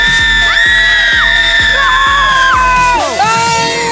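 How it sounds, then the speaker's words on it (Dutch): A crowd at a Bobbejaanland amusement park show screams and yells loudly together for a loudness test, a sustained roar with rising and falling shouts, ending in a brief dip. "Ik wil eventjes testen of dat jullie schreeuw wel Bobbejaanland waardig is."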